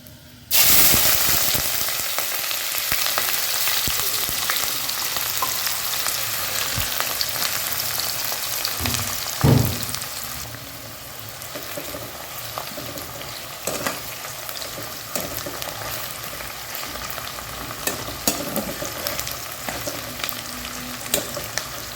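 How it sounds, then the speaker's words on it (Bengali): Oil heats and fries in a home kitchen pan, giving a steady close sizzle throughout, with occasional clinks and stirring noises. No one speaks. "তো তেলটা গরম হোক।"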